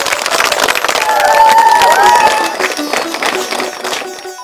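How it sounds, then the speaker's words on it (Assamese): An audience at a tribute event for Nipon Goswami breaks into a burst of clapping and crowd noise that swells, peaks midway and then thins out, with a brief tonal sound layered over it. "ৰাইজ হাত চাপৰি দিয়ক"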